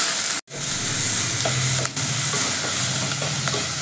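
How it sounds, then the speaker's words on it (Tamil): Chopped garlic sautéing with rock salt in a pan, a steady loud sizzle with a brief dropout near the start and light stirring scrapes throughout, no voices. "நல்லா வணக்கி விட்டுப்போம்"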